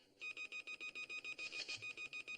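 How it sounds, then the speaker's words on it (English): An emergency alarm on the Haunted Lighthouse set in Lost in Space repeats a rapid, evenly pulsed electronic beep, about a dozen shrill tones in quick succession, fairly faint and with no speech. "I certainly heard that. It's the emergency alarm."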